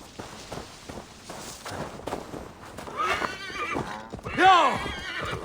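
A horse in the video game Assassin's Creed Valhalla whinnies loudly near the end, with clip-clop hoofbeats and footsteps before it, while someone talks over much of the sound.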